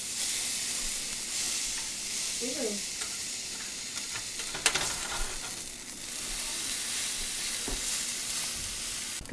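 Bread fries in a buttered pan with a steady, close sizzle and occasional soft clicks and scrapes, one brief louder tap midway, no talking.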